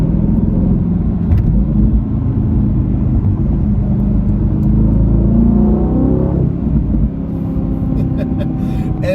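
A 2025 Aston Martin Vantage V8 accelerates hard from the driver's seat, its engine a loud, continuous rumbling roar that climbs in pitch, with a gear change part way through, amid traffic.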